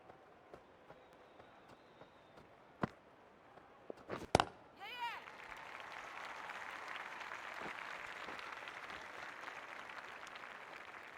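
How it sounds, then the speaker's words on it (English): Crowd applause at a Big Bash cricket match between Adelaide Strikers and Melbourne Stars, distant and moderate, rising after a few sharp knocks and sustained to the end under light commentary. "A round of applause."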